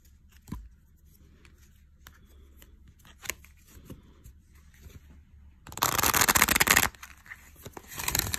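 A deck of cards riffled in one burst of about a second of rapid flutter, after scattered small handling clicks and taps close by.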